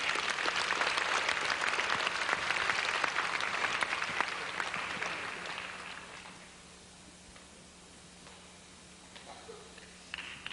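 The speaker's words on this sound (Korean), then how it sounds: "박수로 맞아주십시오." Congregation applause at a church service, a dense steady clapping that fills the hall for about six seconds, then thins and fades into quiet room tone with a few scattered claps.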